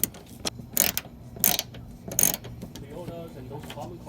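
A ratchet wrench works a 10 mm bolt inside a car's wheel well, giving several short bursts of rapid clicking close by, with brief pauses between the runs.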